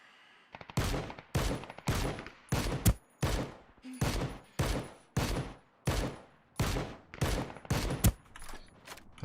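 Rapid gunfire rings out in a video game, about a dozen loud, sharp bursts fired in a steady rhythm, each cracking close and decaying briefly before the next.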